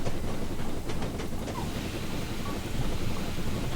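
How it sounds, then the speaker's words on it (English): Steam locomotive running in Train Simulator 2016, heard from close by as a dense, rushing rumble with a few faint rhythmic chuffs early on, steady and fairly loud throughout with no talking. "It sounds way better when you're close to the train"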